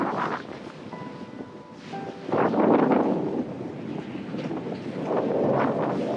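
Strong wind buffets a sailboat beating upwind on the Race to Alaska, roaring across the microphone in loud gusts with the rush of water and waves beneath, surging louder partway through.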